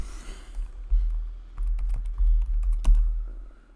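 Keys on a computer keyboard are tapped in short irregular bursts of clicks, close by over a low background hum, with no talking.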